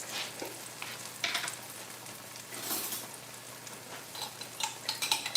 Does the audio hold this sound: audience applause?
no